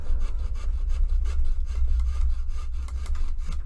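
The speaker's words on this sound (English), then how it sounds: "The whole table's wobbling while I'm sawing." A saw cuts through a Forge World Ruined Watchtower of Amon Sûl miniature model on a wobbling table. The strokes are close and steady, a rhythmic back-and-forth rasp that goes on throughout.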